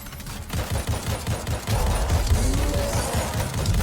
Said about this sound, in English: this gun is so dope, but I need to get a suppressor for this thing, man. It's so loud.